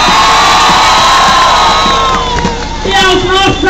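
Dense crowd cheering and shouting at a victory gathering, continuous and loud with whoops rising over the noise, mixed with voices; no distinct clapping stands out.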